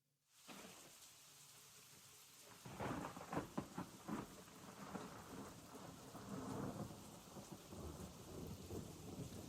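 Rain and rolling thunder opening the first track of a 2024 record, steady hiss of rainfall with a loud thunder rumble building and fading, no voices.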